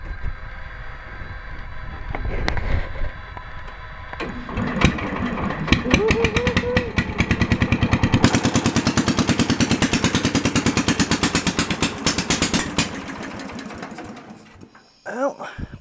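A Simplicity tractor engine starts for the first time after head gasket and spark plug repair: sputtering cranks, then a rapid, loud chugging run that holds for several seconds before cutting out.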